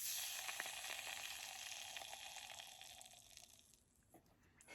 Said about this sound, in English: You guys may or may not hear this sizzle on camera.